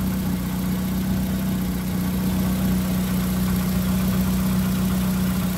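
A 2005 Nissan Sentra engine idles just after a cold air intake install, a steady, even low hum that runs unbroken and close by, with no voices.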